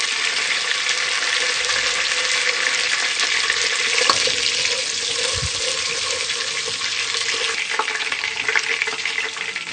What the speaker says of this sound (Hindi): ऑयल में हम थोड़े से बादाम डालेंगे, थोड़ी सी नारियल डालेंगे। इस तरीके से हम इनको थोड़ा सा फ्राई करेंगे।